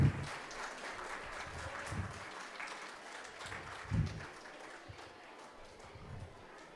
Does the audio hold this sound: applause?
yes